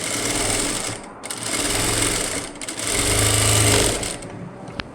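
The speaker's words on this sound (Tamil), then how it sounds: "இதை நம்ம டபுள் ஸ்டிச் போட்டு தைச்சிடுவோம்." A sewing machine runs a double stitch along thread piping, its steady rapid whir loud and close, pausing briefly twice before starting up again with no talk.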